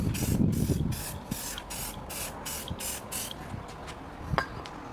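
Navy blue spray paint hisses from an aerosol can in a series of steady bursts, separated by short pauses, with a faint clink or two in between. The bursts are close and fairly loud, and no one speaks.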